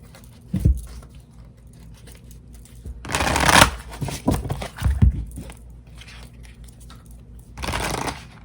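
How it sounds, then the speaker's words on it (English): Tarot cards shuffled by hand in a few bursts: a short riffle, then a longer, louder crisp flurry and a final quick shuffle, close and clear with no talking. "let's get your tarot cards out"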